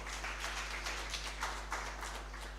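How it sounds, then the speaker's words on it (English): An audience claps at an indigenous seeds and food culture harvest fair, a moderate spread of hand claps with uneven peaks over a low steady hum. "Can we give one more round of applause?"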